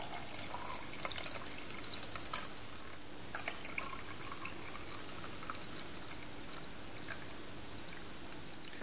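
Cold water pours steadily into a measuring jug while making a sherry trifle, a continuous close splashing trickle lasting several seconds with no talk.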